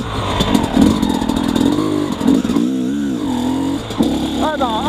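Motorcycle fitted with a Keihin PWK 36S carburetor accelerating in second gear without the clutch, a loud close engine note rising and falling in pitch, with a voice talking over it.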